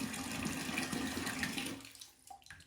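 Tap water pours steadily into a plugged bathtub being filled like a sink to test a clog, a broad rushing stream that runs loud then drops away and thins out near the end.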